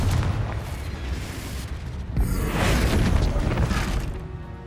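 A Confringo explosive spell goes off in Hogwarts Legacy during a fight with goblins while rescuing a dragon egg. It lands as a loud, booming blast about midway that swells into a rumbling roar over steady background battle noise.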